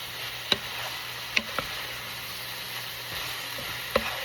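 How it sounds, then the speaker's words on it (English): Garlic and onions sizzle in a pan as they are stirred, giving a steady soft hiss with a few sharp utensil taps against the pan, close by and with no voices. "And then I give it a good stir."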